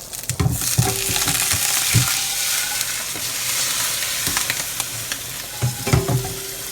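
Cooked pasta with drained bacon sizzling and popping in a hot pan, a steady crackling hiss with stirring clatters and scraping bursts near the start, around 2 seconds and again near 6 seconds, no voices.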